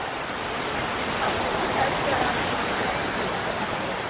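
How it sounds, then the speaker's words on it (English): Steady, dense roar of Na Mueang waterfall on Koh Samui in the rain, filling the whole clip, loud and constant with a broad hiss of rushing water. "Okay, here's the waterfall."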